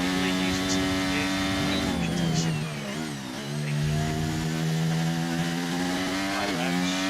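A racing car engine screams at high revs in a racing video game, a loud, buzzing harmonic whine that dips briefly as it shifts and then climbs back up, continuous and close.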